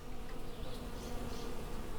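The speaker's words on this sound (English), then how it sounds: "I think there might be some bees up there." Bees buzz continuously in a dense, steady hum, close and fairly loud, with no voices.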